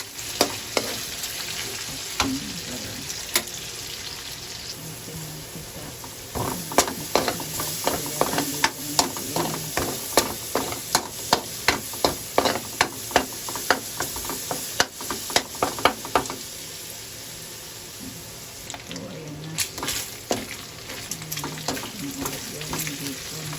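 Garlic and onions fry in a pan for carbonara, giving a steady loud sizzle with frequent sharp clicks of a utensil stirring and scraping, a dense rhythmic patch in the middle, with no talking.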